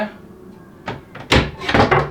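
Door of a computer desk's storage compartment, built to hold a large computer tower, being handled: a soft knock, then several sharp wooden thumps and clacks in quick succession, close and fairly loud.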